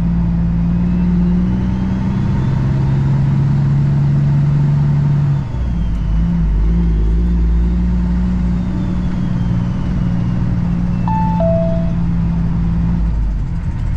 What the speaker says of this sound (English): Was that that pickup that's making all that noise? There's a Dodge pickup that's coming up beside me here.